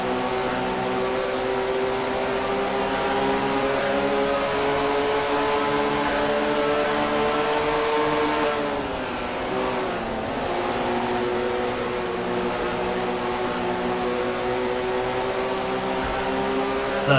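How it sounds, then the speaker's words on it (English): Steady droning exhaust note of a V6 Ford racing engine at sustained high revs, with layered harmonic tones that dip briefly mid-way as the car lifts and then climb back to a constant whine. "Just listen to the sound of that V6 Ford."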